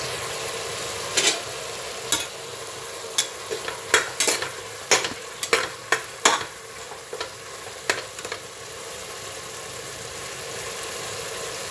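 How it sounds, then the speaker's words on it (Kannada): Tomatoes frying in a pan while tomato bath is cooked at home, a steady low sizzle under a run of sharp scraping stir clicks scattered through the middle, close and moderately loud. "ಈಗ ಟೊಮೆಟೊ ಸೇರಿಸ್ತೀನಿ ಟೊಮೆಟೊ ಚೆನ್ನಾಗಿ ಫ್ರೈ ಆಗಬೇಕು"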